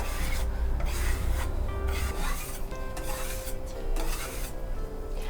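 Trowel rubbing and pressing over decorative marble-effect plaster on a wall, a steady rasping scrape in repeated strokes, close and fairly loud, with no voices.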